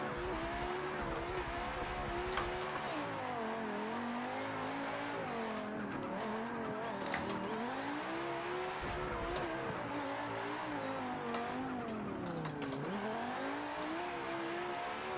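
A car in the Forza racing game revs and holds high engine pitch through long drifts, the whine rising and falling in waves with tire squeal, a constant loud engine tone throughout.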